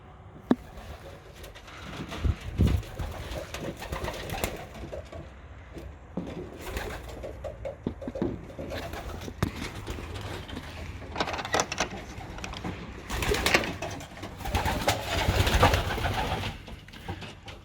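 Young racing pigeons coo softly in a small yard, with steady, murmuring coos throughout, some wing flutters and shuffling, close and moderately loud, with no talk.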